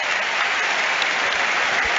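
Stadium crowd applause at a Liverpool Premier League football match against Brentford, a steady broadband roar of clapping filling the ground throughout, with no voices above it.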